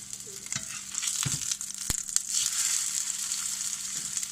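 Zucchini cakes frying in an overly hot pan, a steady close sizzle and crackle of oil throughout, with a few scrapes and a sharp clack of a spatula as a cake is flipped.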